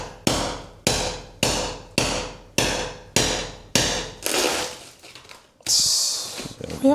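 A hammer strikes a chisel eight times in an even rhythm, each sharp nearby blow ringing briefly. Scraping and rustling follow.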